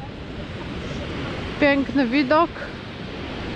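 Winter ocean surf rolls steadily onto an Icelandic beach, a continuous broad wash of waves and wind, with a short spoken remark heard over it.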